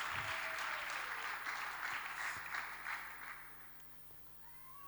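Church congregation applauding, a fairly faint spread of clapping that tapers off toward the end, with a low background hum beneath.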